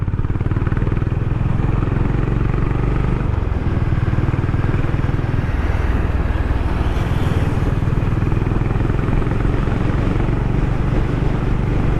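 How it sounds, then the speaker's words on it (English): Honda H'ness motorcycle riding along, its engine and exhaust giving a loud, steady drone with constant wind rush and a few faint shifts in pitch. "Also the exhaust pops a little bit."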